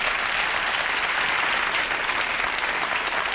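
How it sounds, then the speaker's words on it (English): An audience at a hypnotist and magician's stage show applauds, a thick, even wash of many hands clapping at steady volume for the whole stretch, with no voices on top. "Would you all applaud, please?"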